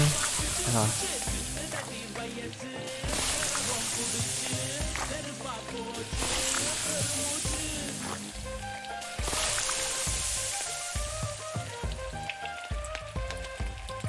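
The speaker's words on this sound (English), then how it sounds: "Is there anything more satisfying than that, like, sizzle when something hits the pan?" Food sizzling in a pan in the cooking game Venba: a dense, crackling frying hiss that swells and fades in waves over about fourteen seconds, with soft game music and clinks.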